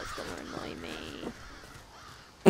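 Crow caws from the video game Elder Scrolls Online, a couple of rough calls at moderate volume mixed with a faint voice in the background, ending in a short sharp knock.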